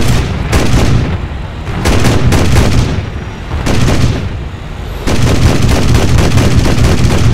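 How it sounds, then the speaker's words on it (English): Anti-aircraft fire in War Thunder, loud heavy thumping bursts of rapid gunfire with booming blasts, coming in repeated volleys up close. "Get a lot of turbulence from the anti-air."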